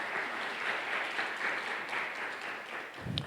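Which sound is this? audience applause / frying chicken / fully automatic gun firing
audience applause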